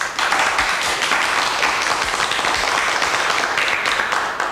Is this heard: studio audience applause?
yes